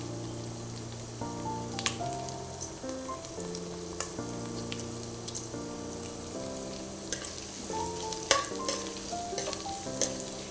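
Two dried red chillies fry in oil for a snakehead fish pickle, making a low, steady sizzle with occasional light pops and stirring taps under a quiet musical backing.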